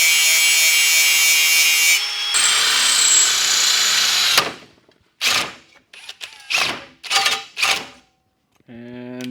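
Power drill with a bit and hole saw working on steel rock slider stock for a 4x4, a long continuous grinding whir followed by several short, sharp bursts of drilling, loud and close.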